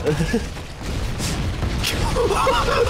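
Explosions in Halo: Combat Evolved: a couple of short, sharp blasts ring out over rumbling battle noise, with a voice talking over them.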